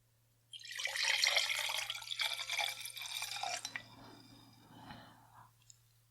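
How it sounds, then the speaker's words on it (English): Wine poured from a bottle into a glass: a steady close gurgling, splashing stream for about three seconds, then a softer trickle as the pour slows and tapers off. "There we go, and give a nice pour here."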